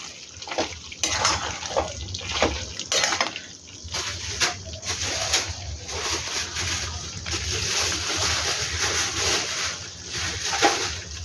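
A spoon stirs coriander and cumin powder through sizzling onion and chicken in a hot pan, making repeated scraping strokes over a continuous frying hiss.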